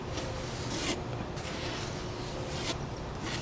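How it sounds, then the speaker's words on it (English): A curved trowel scrapes spackle across a curved RC plane surface, making continuous close gritty rubbing with a few sharper scraping strokes. "we can go ahead and we can apply the spackle"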